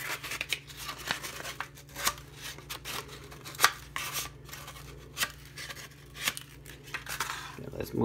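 The cut edge of a DIY rod holder is sanded, giving a steady series of close, rasping strokes about every half second to second, with occasional louder scrapes.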